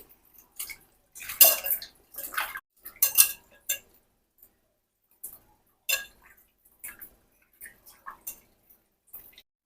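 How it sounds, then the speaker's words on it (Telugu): Fish being washed in a metal vessel: sporadic splashes, clinks and knocks of water and fish against the pot, close by, separated by short quiet gaps. "చేపలు శుభ్రంగా కడగాలి"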